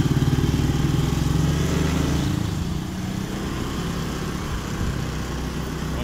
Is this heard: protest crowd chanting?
no